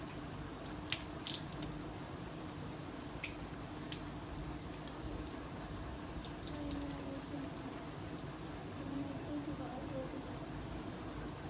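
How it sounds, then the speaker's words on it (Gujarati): Face being rinsed with water after a homemade skin paste, faint splashing and dripping from cupped hands, soft and steady against a low background hiss. "પાણી લઈ લીધું છે અને હવે મારી સ્કિન સાફ કરું છું."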